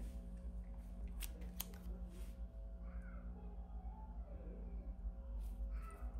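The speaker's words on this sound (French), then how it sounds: "je vais couper mon fil ici" Scissors snip through crochet yarn at the edge of a crocheted shell bag, a few short close cuts over a steady low background hum.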